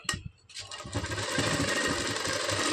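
A sewing machine stitching a blouse side seam starts after a brief thump and then runs steadily, a close, loud continuous mechanical whir that builds slightly, with no talking.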